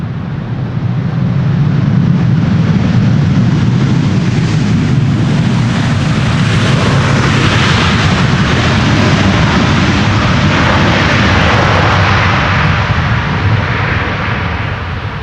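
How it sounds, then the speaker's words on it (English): An airliner lands in a crosswind on runway 18R Polderbaan at Amsterdam Schiphol and runs its thrust reversers, a loud, continuous broadband jet roar that holds steady and close for the whole stretch. "Nice use of the reversers there."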